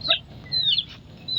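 Roosters on a farm give short, high clucks and calls, a few quick bursts close by over a low background hum.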